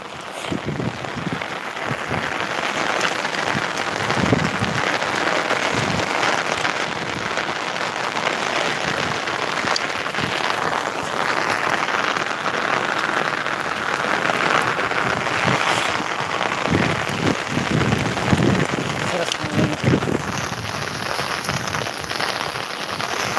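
Heavy rain pours steadily, a dense, continuous hiss of drops drumming on surfaces with no voices.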